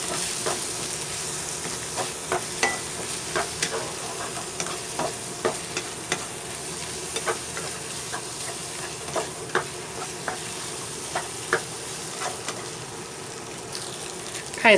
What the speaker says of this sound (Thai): ผัดจนไข่สุกนะคะ